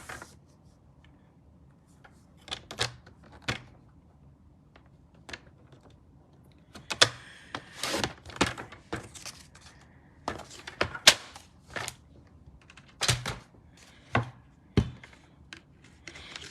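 Scissors cutting watercolour card paper for a distressed country bouquet hearts card, a scattering of sharp, close snips and taps with quiet pauses between them, no voices.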